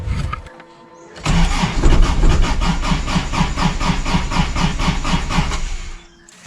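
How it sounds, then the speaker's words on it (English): Toyota RA40 Celica, sitting dormant for a long time, cranks with a rapid rhythmic starter chug for several seconds before the engine catches and settles, loud and close, with no talk. "I guess we just give it a crank."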